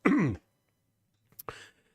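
Two short bursts: a single harsh cough or throat clear up close, then after a long silence a smaller catch and a second brief cough.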